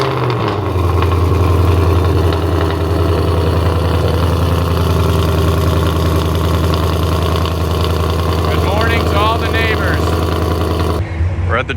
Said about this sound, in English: I'll give you guys a cold start now.